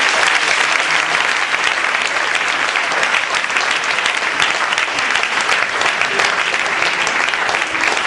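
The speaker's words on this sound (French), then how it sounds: "Applaudissements." Dense, sustained applause from a large audience at a religious retreat in Pointe-Noire, loud and steady for several seconds, a continuous wash of many hands clapping close by.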